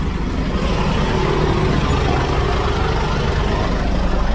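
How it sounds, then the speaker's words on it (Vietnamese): A 2009 Ford Everest engine idling, a steady, loud low rumble with an even mechanical hum throughout, no talk. "Máy nổ khá là êm, giòn."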